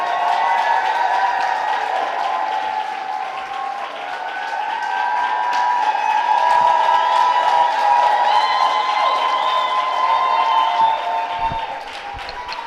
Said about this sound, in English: a resounding applause to Our Lady